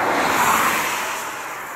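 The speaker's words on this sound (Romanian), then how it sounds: "Mai vine câte o mașină care probabil că întoarce." A car passes along a road in Dej, Cluj, a brief broad whoosh that swells over the first half second and then fades steadily as the vehicle moves away, with no voices.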